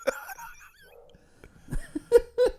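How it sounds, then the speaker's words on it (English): A big, tough dog barks and yelps in the background, a few short, moderately loud calls near the end after a quieter stretch. "Is that Big Mike barking in the background?"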